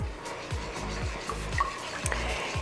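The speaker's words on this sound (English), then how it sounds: "Now we'll just whisk this all together and put it in the freezer." Homemade ice cream mixture whisked in a bowl, a steady scraping and stirring with regular strokes about every half second, close and continuous, without speech.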